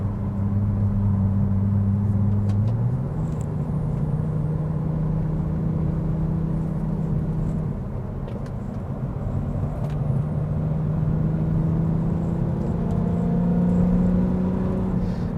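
A 2003 Acura 3.2CL with its J-series V6, heard from inside the car as the engine drones and rises in pitch through gears under load, steady and fairly loud with no talk.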